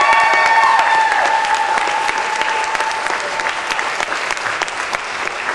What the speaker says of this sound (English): I want to just get a round of applause for all of our speakers again.